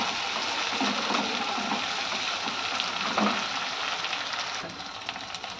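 Prawns frying in a pan for a Telugu okra and prawn curry, a steady broadband sizzle with soft stirring clicks running throughout, close and fairly loud with no talking.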